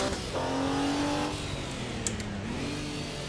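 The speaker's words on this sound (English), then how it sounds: "The engine all of a sudden sounds different." Racing car in Assetto Corsa Evo with a damaged engine, a loud sustained rev whose pitch climbs, holds, then dips and rises again, heard alone with no talk.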